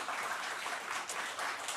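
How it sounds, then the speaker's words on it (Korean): A church congregation at Sunday worship applauds to welcome a new member, a steady wash of clapping from many hands filling the short moment without pause. "우리 박수로 환영하겠습니다"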